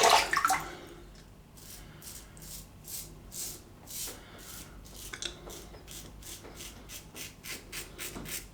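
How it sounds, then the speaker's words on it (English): A Mühle R41 safety razor scrapes through heavy beard stubble in a series of rhythmic rasping strokes, close and steady, with wet scratchy texture and no talking. "the first pass with the R41, if you have a heavy beard growth, you always feel it because it's really slicing through the stubble"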